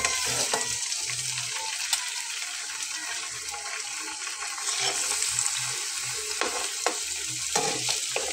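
Fish frying in hot oil in a home kitchen: a steady bright sizzle runs throughout, broken by scattered sharp crackles and pops, with no voices.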